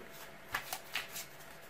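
Pokémon trading cards are shuffled by hand in a quick, quiet riffle of a few soft flicks lasting about a second, close by with no talking.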